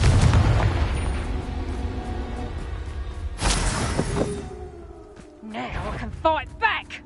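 Spell explosions in the video game Hogwarts Legacy: a heavy booming blast at the start, a second sharp burst mid-way, then lighter magical crackles and pops, with game voices and effects mixed in.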